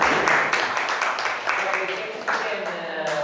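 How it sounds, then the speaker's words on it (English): Audience applause for an organized youth migration project team at an inspiration forum in Bosnia, a steady dense wash of clapping that fades slightly toward the end, with some voices mixed in. "So let's give her a applause."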